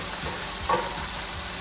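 Scallops sizzle in a hot pan for Fukien Chinese fried rice, a dense, steady frying hiss close by with a brief stir or clatter midway and no speech.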